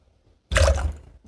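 Lemonade poured into a glass for a bedtime cocktail, a short burst of liquid splashing that starts abruptly after a silent half second and trails off, close and fairly loud.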